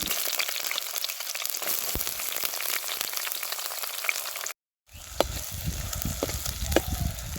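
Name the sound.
onions frying in hot oil with curry leaves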